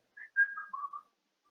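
A cartoon Mickey Mouse whistles a short melodic tune at a ship's wheel, a few clear gliding notes in quick succession, close and alone with no other sound.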